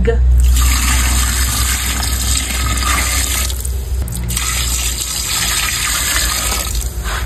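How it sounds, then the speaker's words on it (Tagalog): Water gushes steadily into a pot holding pork leg for nilaga broth, a loud continuous pour that briefly eases around the middle before resuming, with faint voices in the background. "Ito pong ating karne ay akin na pong sasabawan. Lalagyan ko na po ito ng tubig."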